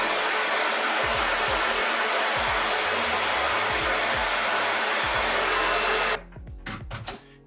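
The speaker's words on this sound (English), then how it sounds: "on your hair dryer, you just put cold, you just change it to the cold setting" A hair dryer running on its cold setting gives a loud, steady blowing whir for about six seconds, then cuts off, leaving a few soft clicks and handling noises.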